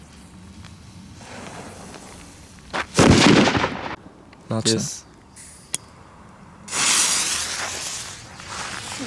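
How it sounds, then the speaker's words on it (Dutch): Fireworks, including a batch of around ten with extra spinning circles, go off in sharp bursts of loud bangs and crackling, with a longer crackling volley near the end; people talk between the blasts. "vuurwerk"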